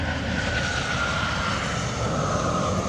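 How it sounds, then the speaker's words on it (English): A fixed-wing airplane passes overhead with a steady droning engine hum that holds at a moderate level throughout, with no other sounds standing out. "Plane's coming."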